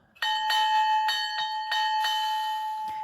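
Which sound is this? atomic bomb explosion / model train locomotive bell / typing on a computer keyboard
model train locomotive bell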